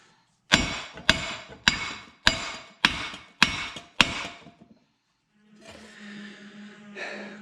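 A heavy hammer strikes a rusted hub to drive it out of a Silverado truck spindle, seven loud metallic blows at an even pace, close up, followed by quieter handling noise.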